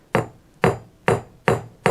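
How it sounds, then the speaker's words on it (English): A hammer strikes pewter during forging, the metal angled and rotated between blows: five sharp, evenly spaced ringing hits about half a second apart, close and loud, each decaying quickly. "keeping the hammer at an angle, just a slight angle, rotating the pewter"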